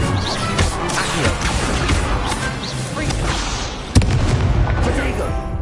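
Magic spell effects in a wizard video game, with dense whooshing, crackling and booming bursts, a sharp crash near the end and a loud, continuous barrage.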